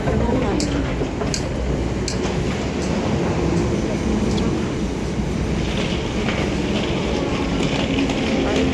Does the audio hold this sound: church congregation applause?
no